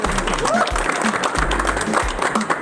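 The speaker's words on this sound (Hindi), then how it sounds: "मैं संजीव सर के लिए एक बार जोरदार तालियां और प्रणाम" Crowd applause at a motivational business gathering, loud continuous clapping with a few deep thuds beneath it.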